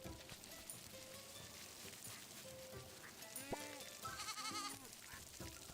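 A goat bleats in a farming video game, a few short nasal calls rising over a busy backdrop of game music and ambient effects, with a voice talking now and then.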